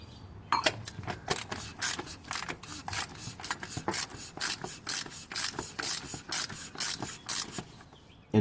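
A ratchet rapidly clicks in a steady stream of quick pawl strokes while tightening a part back on a Volvo S60 during an oil change, close and clear with no talk.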